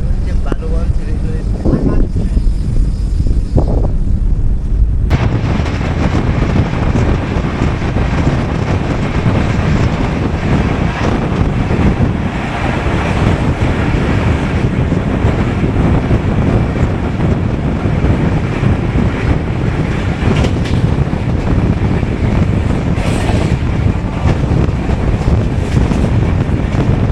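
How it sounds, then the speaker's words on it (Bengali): Fast-moving passenger train, heard from inside as a loud, constant roar and wind rush that swells after a few seconds and holds steady throughout, with a voice talking over it at times. "ট্রেন কিন্তু খুব জোরে চলছে।"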